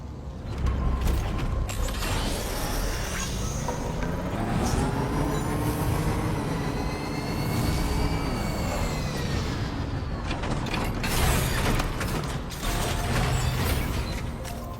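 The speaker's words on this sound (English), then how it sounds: "I've never seen a working monorail before." Monorail machinery in the Death Stranding 2 video game runs steadily throughout, a continuous mechanical drone with creaking, ratcheting clanks and rising and falling whines, loud and close with no talking.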